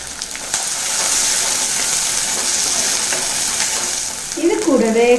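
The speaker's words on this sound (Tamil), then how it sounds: "வெங்காயத்தை நல்லா முருகலாக வதக்கி எடுத்துக்கலாங்க" About fifteen whole small shallots and fifteen garlic cloves sautéing in hot oil for a tangy manathakkali kai kuzhambu, giving a steady bright sizzle with a brief scrape of stirring near the end.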